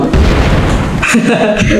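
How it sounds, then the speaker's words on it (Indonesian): An explosion goes off in a zombie video game: a deep, booming burst that fills the mix, with a player talking over it. "Meledak teman-teman."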